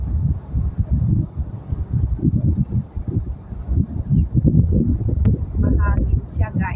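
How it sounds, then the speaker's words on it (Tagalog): Steady low wind buffeting the microphone at sunset on Lantau Island, Tung Chung, Hong Kong, a continuous rumbling rush that swells and dips throughout. "Mahangin siya guys, mahangin."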